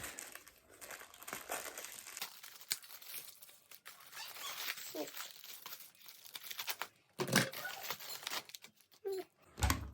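Close, intermittent crinkling and tearing of paper and plastic packaging, with bursts of rustling and short rips between quieter pauses.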